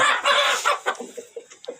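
Hens in a chicken coop squawk loudly at first, then settle into a run of short, scattered clucks, close by and with no voices.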